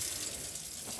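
Water runs steadily from an open hot tap in a 2015 Sterling Eccles Sport 442 caravan, a soft continuous hiss with no voices over it.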